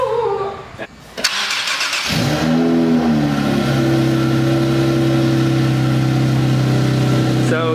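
An Infiniti G37 with a VQ37 engine and a failing oil gallery gasket cold-starts: starter cranking, then the engine catches with a loud flare and settles into a high, steady fast idle nearby.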